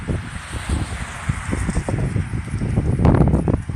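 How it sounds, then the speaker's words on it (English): Strong wind blows outdoors at a lot of Amish-built cabins, a rough rumbling buffet against the microphone with gusts that swell toward the end, mixed with faint rustling. "Lots of wind out here. Super windy today."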